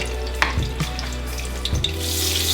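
Butter melting in hot oil in a pot for a seafood gumbo roux, crackling with a steady close sizzle, a few soft clinks and stirring scrapes over a low hum.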